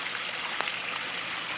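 A backyard pond waterfall fed by an 8,500 gallon an hour pump pours in a steady, even splash and rush of water, heard close and continuous with no voices.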